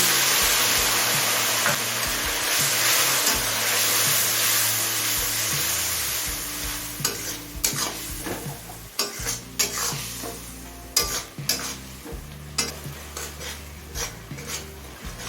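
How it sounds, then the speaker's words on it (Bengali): Spice masala for chicken ghugni cooks down with a splash of water in a pan, first a steady loud sizzle, then repeated sharp spatula scrapes and clinks against the metal, close and unaccompanied by talk. "জল দিয়ে সমস্ত মশলা মিনিট তিনে কষিয়ে নিয়েছি"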